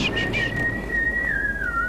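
A character whistling in the video game Zeno Clash: one long, clear sustained whistle that wavers slightly in pitch and slides gently downward, heard alone over a low background.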